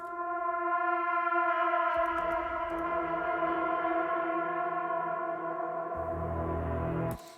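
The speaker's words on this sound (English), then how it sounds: "And then I have galactic reverb, which makes it sound even more creepy." A sustained brassy trumpet tone swells in a vast, echoing wash of reverb, with a lower droning layer entering partway before it cuts off abruptly.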